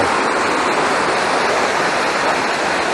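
Rushing water at a watermill, a loud, steady broadband roar of falling water filling the whole clip, with no voices or other sounds breaking through.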